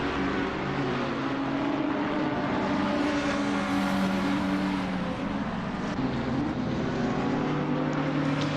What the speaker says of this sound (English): A nice little battle behind us there with Ashley still chasing down that BMW of Mark